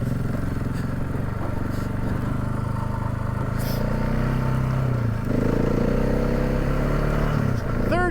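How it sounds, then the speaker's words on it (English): A Honda motorcycle ridden off-road shifts up into third gear. The engine drones steadily and close, with the revs rising and falling and some clatter from the terrain. A rider calls out over it. "This is Ivan riding on the Honda"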